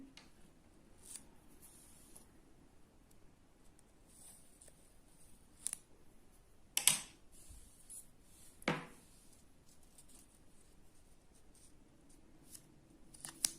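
Sparse, quiet snips and clicks of scissors cutting during needle lace work, a few sharper cuts standing out against a soft background, with no talking.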